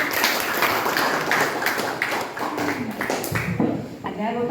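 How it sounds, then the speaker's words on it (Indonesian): At a school teacher training session in a hall, a group breaks into applause for a teacher, a few seconds of scattered, crisp handclaps mixed with voices talking over them. "tepuk tangan untuk ibu"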